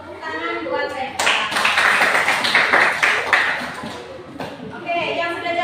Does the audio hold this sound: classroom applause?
yes